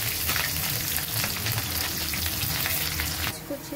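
Onion frying in hot oil in a pan, loud and close, with a dense crackling sizzle and stirring scrapes that ease off near the end, for a prawn and jackfruit curry.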